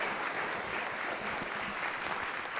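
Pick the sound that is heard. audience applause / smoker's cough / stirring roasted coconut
audience applause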